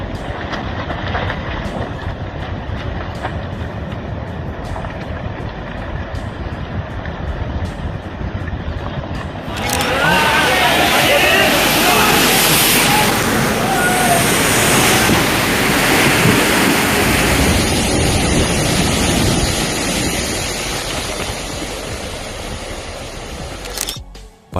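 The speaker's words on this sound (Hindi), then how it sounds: "2020 के दौरान नॉर्वे में रिकॉर्ड हुई इस लैंडस्लाइड की घटना के दौरान जमीन का बड़ा हिस्सा समुद्र में समा" A coastal landslide in Norway collapses into the sea, a sustained heavy rumbling roar that swells midway and stays loud, with regular camera shutter clicks repeating in the first half.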